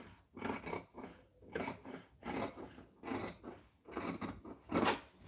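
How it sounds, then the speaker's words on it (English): Scissors trim fabric while a V-neck shirt is sewn, giving about six rhythmic crunchy snipping strokes, close and fairly quiet, with no talking. "I'm just trimming a little bit of it."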